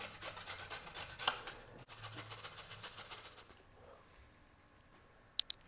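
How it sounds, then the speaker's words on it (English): A carrot is grated into a pan, giving a rapid run of rasping scrapes for about three and a half seconds. The scraping stops, there is a quiet stretch, and one sharp knock comes near the end. "grating the carrot into the pan"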